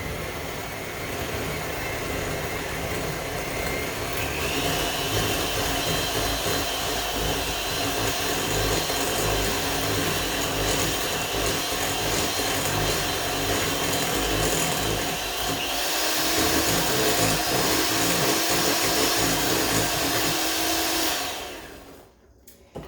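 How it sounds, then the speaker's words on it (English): An electric mixer whirring steadily through banana nut bread batter with the sugar mixture, a loud continuous motor drone whose pitch shifts as the speed changes, running for about twenty seconds before cutting off abruptly. "And now you're going to mix that up."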